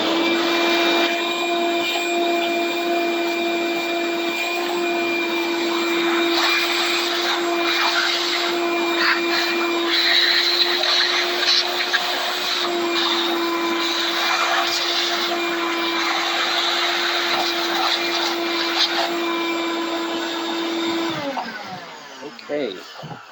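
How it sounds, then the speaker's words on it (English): A vacuum cleaner runs steadily and close by for about twenty seconds while cleaning out the inside of a DeWalt 16-inch 60V max brushless chainsaw, a loud constant whine that cuts off near the end. "I'm going to go ahead and do a quick vacuum."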